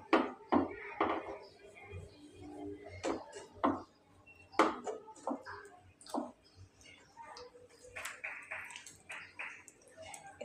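A spoon scrapes and clinks against a pot while long semai noodles are stirred together with powdered milk, irregular close taps and scrapes in uneven bursts with quieter gaps between.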